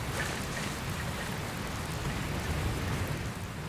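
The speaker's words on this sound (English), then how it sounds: "Where did this rain come from?" Steady rain in Dragon Quest Builders 2 as a storm rolls in, a dense, even hiss of drops on surfaces with a low rumbling undertone, continuous and fairly soft throughout.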